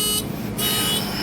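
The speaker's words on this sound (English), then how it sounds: "I think it went to the 3 beeps right away" A Mazda RX7 dashboard diagnostic tool emits a steady, loud electronic buzzing tone that briefly dips, heard close and alone.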